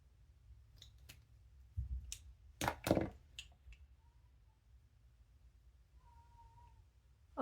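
A house cat cries for its owner from another room, two faint, drawn-out meows sounding distant after a few soft clicks and knocks.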